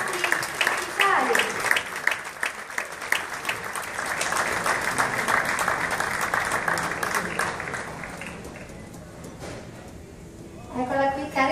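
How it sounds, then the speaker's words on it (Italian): Applause at a cruise ship christening ceremony for the Costa Diadema, a crowd clapping steadily and loudly for several seconds before fading, with a voice speaking over it and a fresh burst of clapping near the end. "Un applauso accompagnata da tutti i nostri ufficiali."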